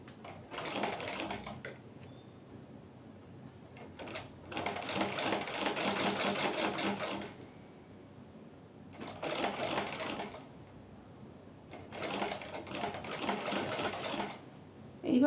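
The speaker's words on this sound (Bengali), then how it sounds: "এই কোণাটা দিয়ে আমি সেলাইটা দিতে থাকবো" A sewing machine stitches a blouse in several loud runs of rapid mechanical clatter, each lasting one to three seconds and separated by short quiet pauses.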